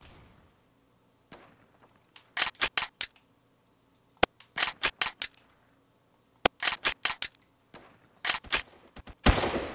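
Gunfire in the Roblox shooter Phantom Ops: repeated rapid bursts of automatic shots in clusters of three to five, separated by short pauses, with a few single cracks and a louder final burst, no talking.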